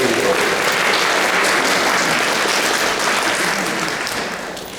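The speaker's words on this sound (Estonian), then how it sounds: "et see aplaus kõlas" Sustained, thick applause from a seated audience in a university hall during a Christmas talk, loud and even throughout, gradually fading toward the end.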